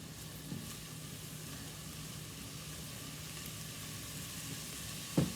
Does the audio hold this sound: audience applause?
no